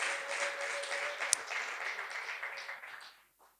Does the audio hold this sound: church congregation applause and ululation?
yes